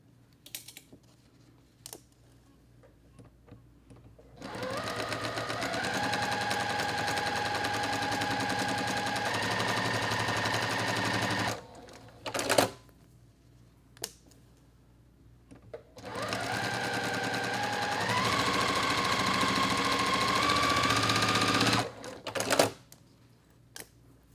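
A sewing machine stitching bright quilt blocks, running in two long steady bursts of rapid whirring stitches with short quiet pauses and small clicks between them.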